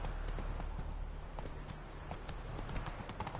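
Roach the horse galloping in The Witcher video game, a quick, steady clip-clop of hooves running continuously at moderate volume.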